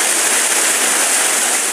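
Steady rushing water from a hidden village waterfall near Mukteshwar, swollen by the rains, a continuous broadband roar with no pauses and no voices.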